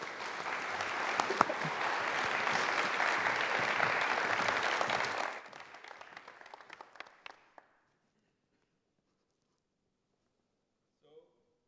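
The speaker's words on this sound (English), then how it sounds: "Round of applause for Matthias." Dense, loud applause from a conference audience welcoming a speaker to the stage at an AI-themed event. It holds steady for about five seconds, then thins to scattered claps and fades into silence.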